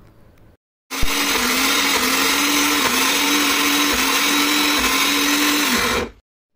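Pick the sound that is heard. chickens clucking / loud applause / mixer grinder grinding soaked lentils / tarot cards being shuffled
mixer grinder grinding soaked lentils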